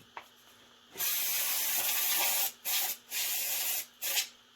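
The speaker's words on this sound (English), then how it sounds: "Blast it with some spray." Close aerosol spray hisses in several bursts onto a rusty carburetor part: one long blast followed by three shorter sprays with brief pauses between them.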